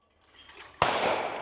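A single loud, close blast from a CZ All American shotgun fired at sporting clays cracks out sharply after a quiet lead-in, its report ringing on briefly.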